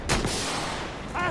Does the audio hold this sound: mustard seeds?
no